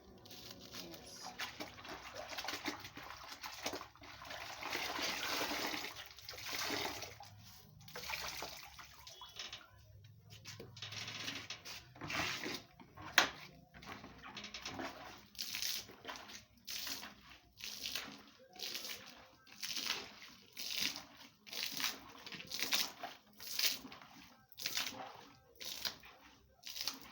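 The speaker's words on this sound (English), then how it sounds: "Rinse the floor" Water splashes and rinses across a floor in an African village home, a steady wash of running water that turns into rhythmic, repeated sloshing bursts toward the end.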